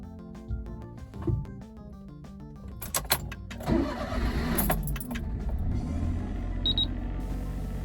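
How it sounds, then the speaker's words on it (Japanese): Daihatsu Hijet S321V cargo van with a naturally aspirated DOHC engine, heard nearby after a battery replacement: a few clicks and clunks, then the engine cranks and starts, settling into a steady idle. "エンジン始動確認よし。"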